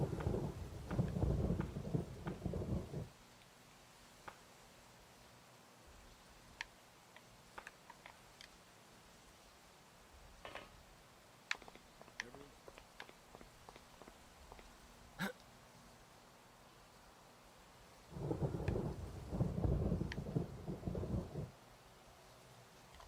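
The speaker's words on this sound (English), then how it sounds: "Look at that, it's really pouring. I heard it's gonna rain until morning." Heavy rain and rolling thunder in the video game Vampire Rain, with two loud rumbling bursts at the start and end and a quieter stretch between that holds scattered ticks and drips.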